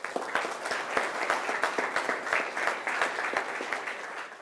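A school audience applauds to welcome a guest at a panel discussion, loud, close clapping with distinct individual hand claps standing out from a steady rhythmic wash for about four seconds.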